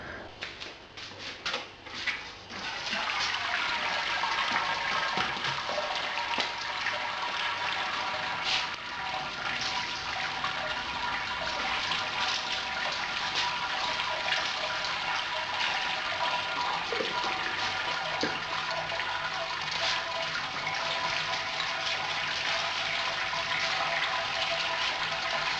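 Water runs steadily during the sparge of a beer mash on a Brewzilla all-in-one brewing system, a continuous close rushing and splashing that begins after a few seconds of quieter clattering and holds evenly to the end.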